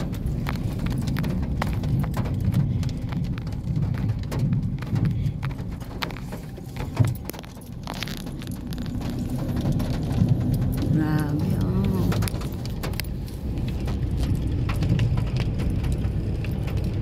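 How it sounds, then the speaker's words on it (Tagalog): Heavy rain patters and drums on a nearby surface in a dense, irregular clatter on the Atimonan Zigzag road in Quezon Province, Philippines, with a low rumble of a moving vehicle beneath. "Talagang sobrang ulan ngayon."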